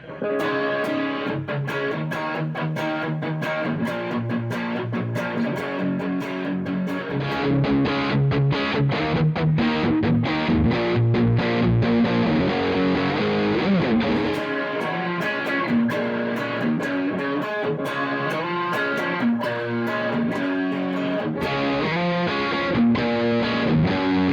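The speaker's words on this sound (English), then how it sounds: "Here it is with a bit of distortion now. I'm going to play a little riff." A distorted homemade electric guitar plays a riff, loud and continuous, with crunchy sustained notes and quick picked passages, no voices.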